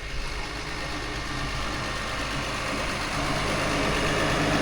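Case IH Maxxum 150 tractor engine running steadily in a dusty field while disk chiseling corn ground, a continuous loud low drone that grows slightly heavier toward the end, with no voices.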